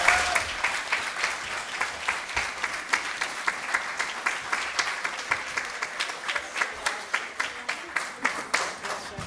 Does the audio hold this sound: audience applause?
yes